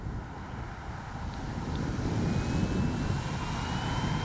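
A Durafly Slowpoke RC plane flies in strong wind, its steady motor whine held at a distance beneath loud, continuous wind buffeting the microphone.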